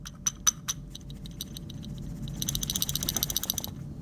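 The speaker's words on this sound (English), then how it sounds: "that little rattle" A loose black piece rattles inside the head of a PEZ dispenser, giving a few sharp clicks at first, then a quick, close burst of tiny repeated rattling taps toward the end.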